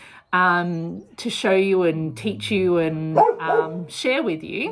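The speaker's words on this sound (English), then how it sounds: "Excuse my dog in the background." A dog barks and yips now and then in the background of a homestead, short sharp calls partly buried under a person talking steadily up close.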